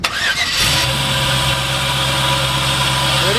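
A 1966 Chevrolet El Camino V8 with dual exhaust cranks briefly and catches, then settles into a loud, steady, rumbling idle close to the microphone.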